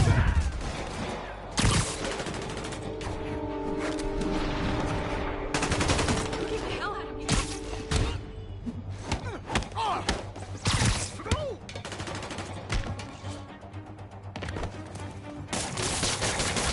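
Enemy gunfire in Marvel's Spider-Man, with repeated bursts of shots mixed with thuds and melee impacts over a steady game soundtrack, loud and close throughout.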